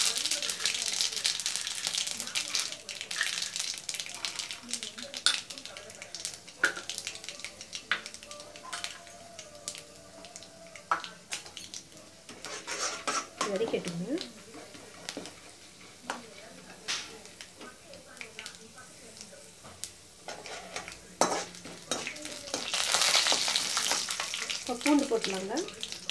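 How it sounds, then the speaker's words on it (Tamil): Mustard seeds and urad dal sizzle and crackle in hot oil with scattered pops, a steady frying hiss running under occasional talking. "இப்போ கடுகு உளுந்து போட்டுடலாங்க. எண்ணெய் காஞ்சிடுச்சு."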